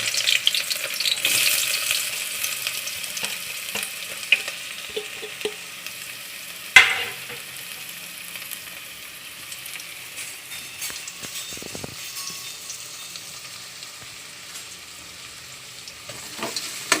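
Sliced onions sizzle steadily in hot oil and get stirred in a pan for vegetable biryani, a continuous close frying hiss with occasional scraping and a sharp clink partway through, no talking.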